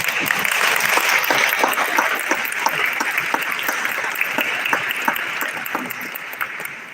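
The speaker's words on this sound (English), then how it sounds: "We'll get another big applause to the speaker." A crowd at an Immigrants' Day event at the State House applauds a speaker, with loud, dense clapping from many people that holds steady and eases slightly as it goes on.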